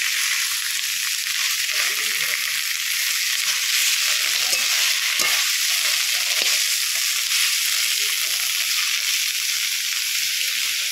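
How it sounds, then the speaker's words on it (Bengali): Gandhal leaves with salt sautéing in a pan, a steady loud hissing sizzle throughout with occasional soft stirring scrapes and thumps, near and continuous. "লবণটা দিয়ে খুব সুন্দর করে আরও কিছুক্ষণ কষে নেব।"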